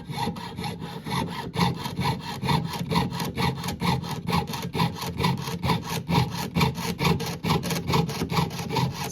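A hand saw cuts with long, steady strokes, each push and pull making a rasping pass in a regular rhythm, close and continuous throughout.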